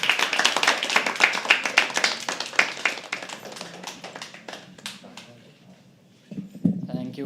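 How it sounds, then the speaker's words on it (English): An audience at a poetry open mic claps for a performer, a dense round of hand claps that thins out and fades, followed by brief talking near the end. "Can we please start clapping for Ankit?"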